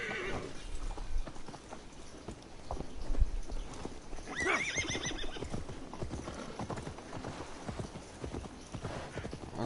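Horse hooves clip-clop steadily in the Assassin's Creed Valhalla video game, with a short whinny partway through over a busy background of game sound.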